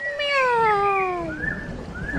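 A cartoon black cat lets out a long, drawn-out crying meow that slides downward, then gives shorter rising mews, close and clear with no talking.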